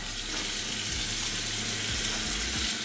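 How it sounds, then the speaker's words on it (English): Water runs steadily from a tap into a sink while someone washes dirt off their arms after repotting a bird of paradise plant, a continuous close splashing rush with no talking. "I need to wash my arms off."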